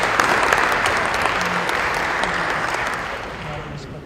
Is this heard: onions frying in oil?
no